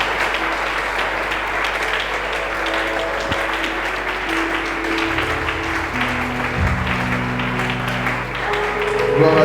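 A church congregation applauding in acclaim of the Lord, a dense, steady wash of clapping that runs throughout, with sustained musical tones and a few voices mixed underneath and a slight swell near the end.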